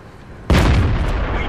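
A Super Pershing tank in World of Tanks fires its cannon once, a sudden heavy boom with a long rumbling tail that fills the rest of the moment, loud and close.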